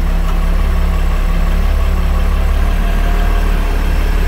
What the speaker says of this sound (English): Here's a little cold start for you guys.